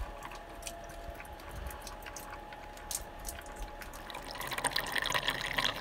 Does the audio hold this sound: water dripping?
yes